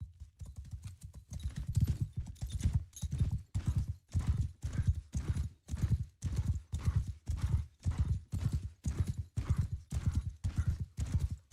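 Horse hooves clop in a brisk, regular rhythm in the Bannerlord Warsails game, close and steady throughout, with a horse whinnying at times and no talking over it.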